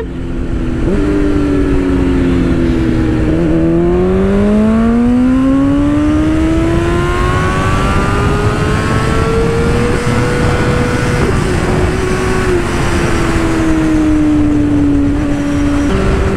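A 2022 BMW S 1000 RR sportbike revs hard in first gear, its engine pitch climbing and holding against the rev limiter in a loud, close, continuous howl with brief dips between pulls.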